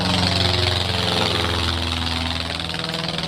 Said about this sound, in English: That plane is flying too low.